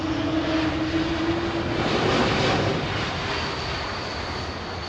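Jet engine roar of a Helvetic Embraer E2 airliner at London Heathrow Airport, a broad, steady, fairly distant rushing rumble with a faint whine that slowly eases over five seconds, with no talking.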